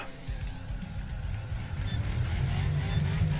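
A NASCAR-style stock car engine in the racing game Wreckfest drones with a low, gritty rumble that builds gradually in loudness, steady and without speech.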